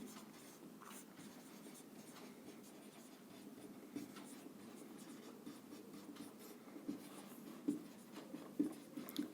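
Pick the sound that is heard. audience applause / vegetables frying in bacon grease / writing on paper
writing on paper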